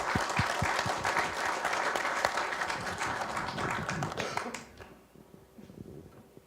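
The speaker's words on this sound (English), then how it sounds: "So just another quick round of applause for this team." An audience in a meeting room applauds a continuous improvement team, dense steady clapping from a moderate crowd that fades out after about five seconds, leaving quiet room noise.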